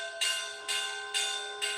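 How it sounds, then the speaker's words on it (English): Church bells ring in Envigado, Colombia, with four loud, evenly spaced bright clangs whose tones sustain and overlap, heard clearly outdoors with no talking. "And the church bells are ringing."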